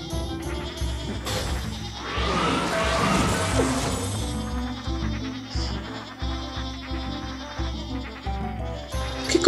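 Cartoonish sheep bleats in the video game Plants vs Zombies 2, a loud wavering bleat followed by rhythmic thumps, crashes and game music, with no speech over it.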